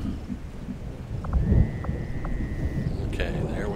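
Steady rain with a low rumble of thunder in the video game XCOM 2, a continuous wash of noise with faint tonal game sounds over it.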